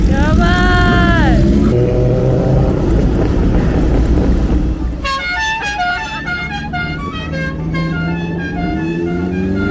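Vehicle horns honk loudly at a gathering of old cars and motorbikes, first a sliding horn blast, then a series of rhythmic, musical horn toots over engine rumble and crowd noise.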